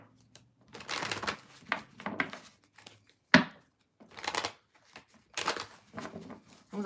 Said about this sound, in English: I still have 2 decks to shuffle.